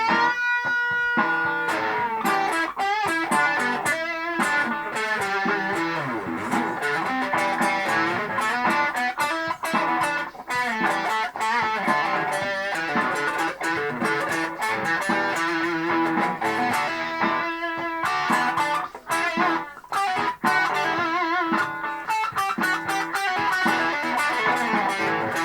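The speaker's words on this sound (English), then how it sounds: "We all know humbuckers sound better with a bit of distortion." Electric guitar with humbucker pickups plays through distortion, with dense, sustained chords and picked notes that ring on steadily for a long stretch, with no one talking.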